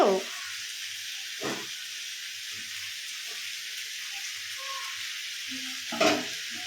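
Goat meat frying in a pan as it is stirred, a steady close sizzle with a few louder scraping stirs near the start and again toward the end.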